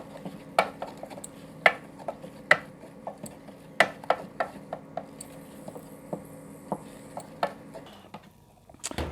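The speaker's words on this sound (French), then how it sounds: "Donc, vous remuez sans cesse." A spoon stirs a butter and flour roux in a pan, scraping and tapping against the pan in a steady irregular rhythm of close, light clinks, with a faint sizzle underneath and no talking.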